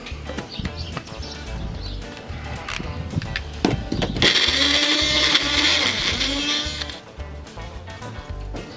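Kitchen blender whirring as it blends garlic cloves, tomatoes and oil into a paste. The motor runs in a loud sustained burst in the middle, with clattering and handling noises before and after.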